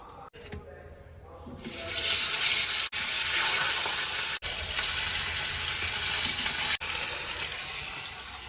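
Hot cooking oil in a pan sizzles and spatters, rising into a loud, continuous hiss after a quieter start. The hiss breaks off briefly a few times, and a voice is faintly present.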